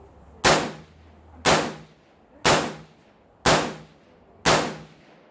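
Five evenly spaced, sharp rifle shots from a B&T APC firing Hornady Black 62-grain full metal jacket rounds, about one second apart, each with a short decaying echo outdoors.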